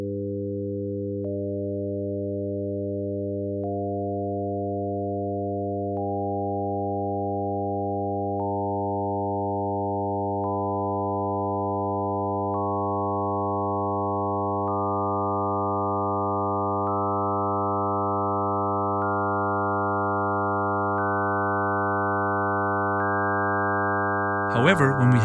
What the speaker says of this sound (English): As we add the different overtones, it kind of sounds like we're building a chord.